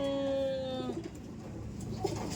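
A checkered pigeon coos at a loft, with a clear tonal call up close at the start, then softer bird sounds and faint background noise.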